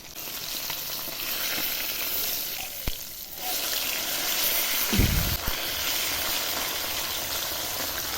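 Fish pieces fried on one side and then turned over in hot oil give a continuous close sizzle, broken by a few sharp clinks and a brief scraping burst from the turning, with no talk.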